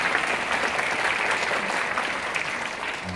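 An audience in a concert hall applauds at a taekwondo demonstration team festival, steady dense clapping from many hands held at an even level for the whole stretch.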